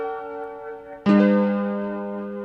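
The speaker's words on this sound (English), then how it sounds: "both of these sounds, the pad with the piano sounds like this" A synth pad holds a steady chord, then a piano-like note strikes at about one second and rings out over it, decaying slowly; close and clear, part of a beat at 160 tempo, with no talk.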